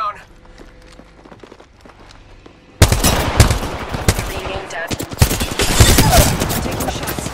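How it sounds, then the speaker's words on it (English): Rapid video-game gunfire bursts in suddenly after a quiet stretch, with loud, dense volleys of shots and footsteps continuing to the end. "Shots fired!"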